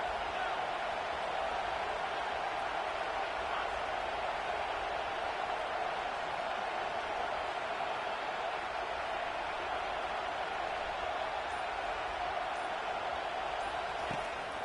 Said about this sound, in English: 3rd down, and this crowd will blow out a vocal cord to help this defense.